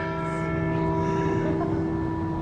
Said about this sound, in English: that's that bell. Somebody just rang it.